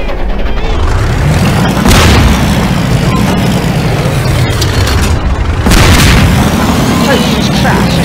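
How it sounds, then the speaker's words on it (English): Explosions in a zombie cabin scene with an army arriving: a dense, continuous rumble with two heavier booms near two and six seconds, loud and close, with voices mixed in. "Jesus Christ, it's exploding!"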